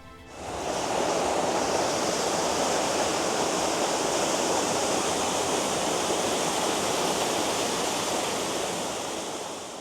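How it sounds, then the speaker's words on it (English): A Yorkshire waterfall roars steadily and loudly on a sunny day, a dense continuous rush of falling water with no pauses or voices. "So this is the final waterfall of today."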